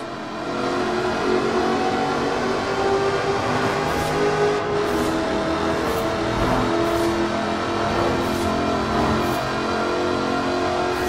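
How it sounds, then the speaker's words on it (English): A supercharged 5-litre V8 with an all-aluminium body roars in Forza Horizon 4, a loud, continuous engine drone that surges and falls with gear changes and acceleration, heard alone without any talk. "Powered by a 5-litre V8 supercharged engine"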